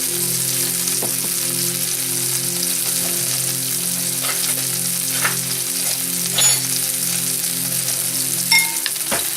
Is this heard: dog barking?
no